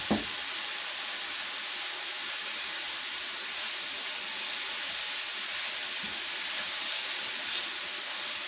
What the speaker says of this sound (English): You're going to keep the heat high enough so that these mushrooms keep sizzling